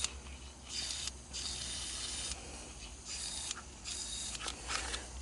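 Penetrating oil hisses from an aerosol can in several short bursts onto a seized Honda TRX200SX engine, with brief pauses between sprays in a quiet garage.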